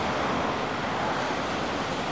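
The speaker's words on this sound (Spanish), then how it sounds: "tienen olas chiquititas, estas olas no son para tabla" Ocean waves wash steadily onto Barranquito beach on the coast, small surf rolling in as a continuous broadband roar with wind, fairly loud and close, with no voices.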